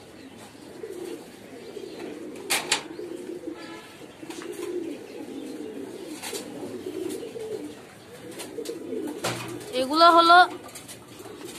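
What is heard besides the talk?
Stenchil pigeons cooing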